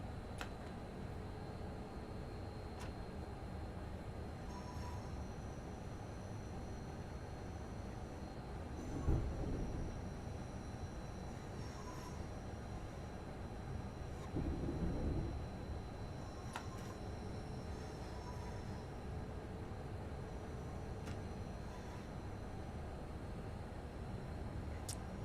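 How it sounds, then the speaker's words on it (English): Class 390 Pendolino electric train driven in the Train Sim World 5 game, running without its tilting function: a steady rail rumble with faint rhythmic clicks from the wheels and a few soft bumps, no talking. "We are driving the Class 390 Pendolino."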